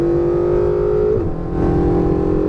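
A Ferrari 488 GTB engine accelerates on a race track, a loud, close, steady rising drone with a brief dip and shift near the middle as it changes gear, then pulls on strongly.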